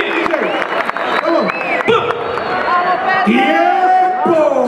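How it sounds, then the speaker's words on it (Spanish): Audience at the Red Bull Batalla de Gallos Argentina 2015 rap battle cheers and claps in a loud, lively din, with shouting voices prominent over the crowd noise. "Un fuerte aplauso para todos los competidores."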